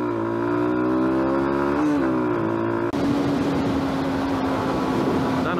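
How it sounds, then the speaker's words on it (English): A motorbike passes on a road near a bridge, its engine tone rising and shifting before it goes by, heard from another moving motorcycle whose steady engine drone runs throughout. "Bloke on a motorbike."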